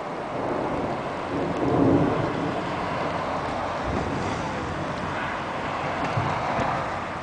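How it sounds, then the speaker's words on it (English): Low thunder rumbles through a thunderstorm over Whittier in Southern California, a broad steady roar with a stronger swell near two seconds, heard alone with a faint rain-like hiss and no talking. "And we should be hearing thunder here pretty soon."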